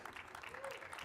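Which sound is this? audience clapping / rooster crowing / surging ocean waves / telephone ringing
audience clapping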